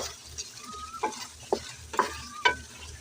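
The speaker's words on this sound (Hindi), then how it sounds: "अब हम डाल लेंगे शिमला मिर्च ताकि इनकी भी साथ में ही भुनाई कर सकें।" Mutton and bell peppers frying in a pan, stirred with about five distinct spatula scrapes spaced roughly half a second apart over a soft sizzle, close and quiet.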